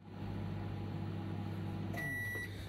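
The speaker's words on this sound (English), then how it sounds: "we're going to microwave the wraps for about a minute" A microwave oven heating wraps hums steadily with a low drone, then its tone shifts near the end as it beeps to a stop, quiet and close with no talk.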